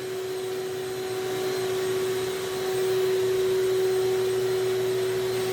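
A vacuum pump runs for a woodworking vacuum table with an MDF top, a steady loud drone with a constant whine that swells slightly partway through, with no talking over it.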